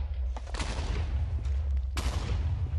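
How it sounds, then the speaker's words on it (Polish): Blasts from the Explode mod in Minecraft, a rumbling series of booms with a sharp fresh detonation near the end, heavy low thudding under the whole stretch. "Bo było parę wybuchów."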